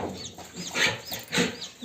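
Backyard hens and newly hatched chicks make soft clucks and high thin peeps in a few rising and falling bursts, fairly close, over a light background hiss.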